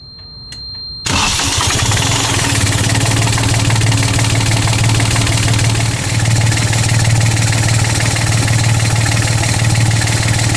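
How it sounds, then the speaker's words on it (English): The small engine of a Bavaria sailing yacht starts after a brief quiet moment, then settles into a steady, loud, close idle with a continuous low rumble. "I'm going to run the engine just for a couple of minutes"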